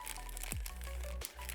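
Wrapping paper crinkles and tears as a wrapped, hand-painted collectible figure is unwrapped up close, with several sharp rustling bursts in quick succession.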